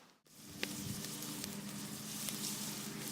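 Bear meat browning in a pan over a campfire, a close, continuous sizzle that swells after a brief quiet start and holds steady, with faint crackles.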